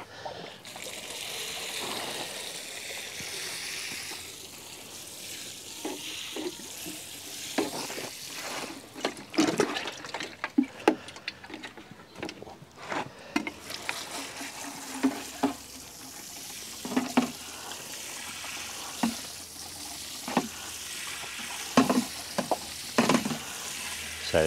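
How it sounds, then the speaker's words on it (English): An old watering can is emptied over garden plants such as strawberry runners, beans and broccoli, producing an irregular run of splashing and spattering water bursts over a soft outdoor background, close and moderately loud. "Turn the old watering can out."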